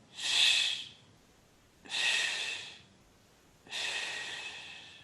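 Three slow, deep breaths during a yoga practice, each a long airy rush of inhaling or exhaling, close to the microphone, with quiet pauses between them.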